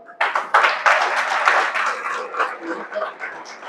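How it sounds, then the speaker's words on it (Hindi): Applause from an audience at a network marketing meeting: a dense, steady wash of many hands clapping that starts abruptly, holds strong for a few seconds and slowly thins, with some chuckling mixed in. "ताली बजा दो भाई इनके लिए"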